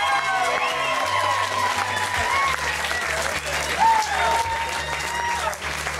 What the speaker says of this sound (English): One more time, big round of applause for Brian Goodman.